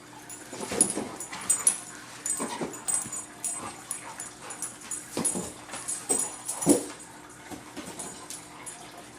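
A pit bull plays energetically, giving repeated whimpers, yips and short barks at close range, with panting between bursts and no speech over it.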